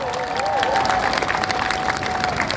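A crowd at an outdoor campaign rally in Icheon applauds loudly and steadily, with some cheering mixed in, as a dense wash of sound that holds throughout.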